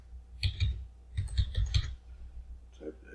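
Keystrokes on a computer keyboard as a social security number is typed into tax software, two short bursts of clicking taps close by, with a low hum underneath.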